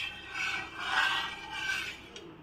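Semolina sheera stirred slowly with milk in a pan, a steady close scraping and rasping that swells and fades in long strokes, with no voices.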